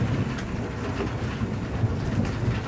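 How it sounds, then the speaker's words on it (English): Monsoon rain pours steadily through a thunderstorm, a dense, even hiss of thick drops with low rumbling underneath and no voices. "You can see the rain falling over there."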